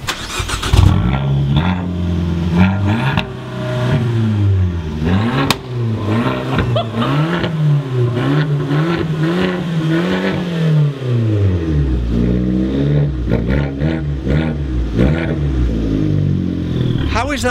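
A small Fiat 500 Abarth engine revs hard again and again, climbing and falling in pitch with a sharp crack in between, loud and close, while people talk under the engine noise.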